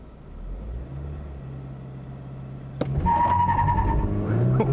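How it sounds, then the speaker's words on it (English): A 2022 Toyota GR86 sports car idles steadily, then launches hard in a 0-60 run, its engine roaring loudly as revs climb, with a sharp burst of wheel spin at the start. "Let's go ahead and try a 0-60 run in this."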